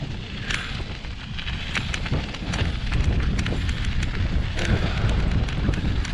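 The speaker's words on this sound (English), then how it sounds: "Wind's picking up, temperature's dropping." Strong wind gusts buffet the microphone while riding the Centerline Trail from Burrillville toward Connecticut, a loud continuous roar with some rattles and clicks, no talking.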